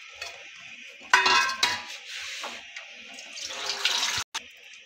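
A cup of water splashes and pours into a cooking pot of beef ojri (tripe) spiced with garlic, ginger, turmeric and chili, with a few brief clinks of utensils around the close, close-up pouring and no talking.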